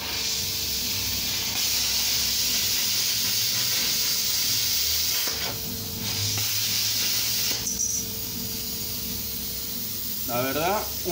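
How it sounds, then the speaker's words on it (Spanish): A Lusqtoff Incut40 plasma cutter slices through painted sheet metal with a steady, loud hissing roar that runs nearly the whole time, shifting in tone midway, with a brief chirping squeal near the end. "vamos a tratar de cortar una chapa"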